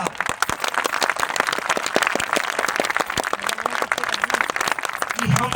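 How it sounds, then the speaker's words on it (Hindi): Audience applause at a Hindi poetry recital during a large Hindu gathering, dense sustained clapping from a crowd continuing steadily throughout with no speech over it. "कमजोर है तालियां साहब।"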